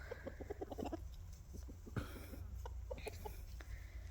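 Rapid bursts of rooster clucking with a few squawks, close and moderately loud, over a steady low background hum.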